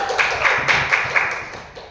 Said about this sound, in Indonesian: Tepuk tangan buat Puji